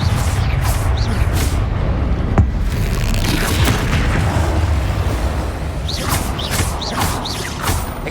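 A Confringo blasting spell explodes in Hogwarts Legacy, a loud booming blast with a rushing whoosh followed by rumbling, then lighter magical swishes and bursts toward the end.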